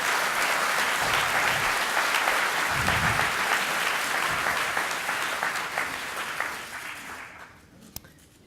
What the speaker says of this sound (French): Merci beaucoup Guillaume, vous pouvez l'applaudir.